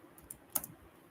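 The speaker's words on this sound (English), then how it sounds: "Don't worry, I will not keep typing every time." A few sparse, light clicks from a computer keyboard sound while SQL queries are typed, quiet and irregular with no talking.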